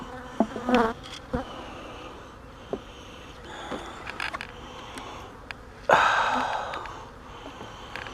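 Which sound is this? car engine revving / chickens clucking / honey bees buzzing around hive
honey bees buzzing around hive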